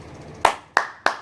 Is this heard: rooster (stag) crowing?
no